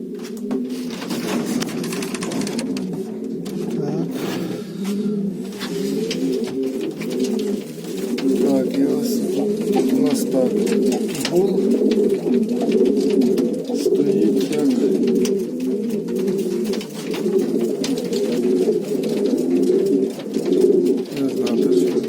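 Mating pigeons coo continuously and close by, a dense, throaty warbling that rolls on without pause for over twenty seconds, loud and steady.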